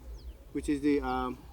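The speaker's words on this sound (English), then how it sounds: "there's actually peacocks in the background and several other birds around that are making these sounds" Birds call near a property in Jaipur, India, with peacocks among them: a few short, bright cooing and harmonic calls come in quick succession over a low background hum.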